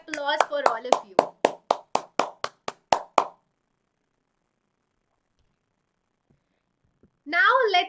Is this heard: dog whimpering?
no